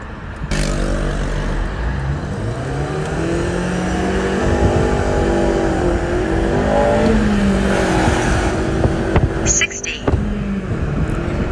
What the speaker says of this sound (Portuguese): Você trocou a 7 mil giros, Gustavo.